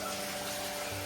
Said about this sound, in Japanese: では海水入れていきます